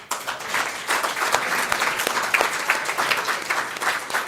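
Steady, dense applause from an audience at an award ceremony in Senegal, honoring the winning company of a first cleantech competition, continuous and fairly close with no voices over it.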